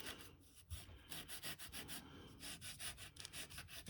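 Steady, rhythmic back-and-forth rasping of 250 grit sandpaper worked by hand over a model Me 262 aircraft wing, close and quiet, with soft strokes repeating evenly throughout.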